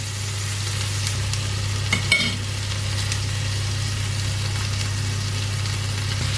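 Steady, loud frying sizzle of butter melting in a pan with steak, garlic and rosemary, accompanied by a constant low hum and a brief clatter of utensils partway through.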